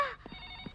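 A telephone rings briefly with a bright electronic trill at the very start, then fades into quiet room tone with a couple of soft thumps.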